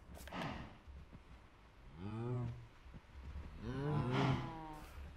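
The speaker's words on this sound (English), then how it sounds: "It looks a lot better if the cows are walking around instead of just pushing themselves in the corner." Cows moo in Minecraft, two drawn-out low lowing calls from penned cattle, moderately loud over a faint, steady ambient rustle.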